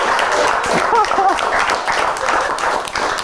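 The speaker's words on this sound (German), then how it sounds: "Applaus, wirklich mal." Studio audience at a Vienna late night comedy show clapping steadily, a dense, moderately loud wash of applause with a voice briefly calling out over it.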